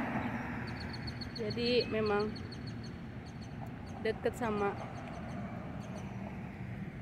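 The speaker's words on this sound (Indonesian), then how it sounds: "ini suara burung di mana-mana" Faint bird chirps and calls sound outdoors over steady background noise, with a person speaking at the same time.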